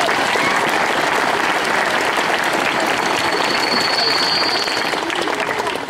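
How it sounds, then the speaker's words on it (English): Loud, sustained crowd applause after a final speech at a senior football championship event, dense clapping filling the room and fading slightly at the end. "So, clap for them as well."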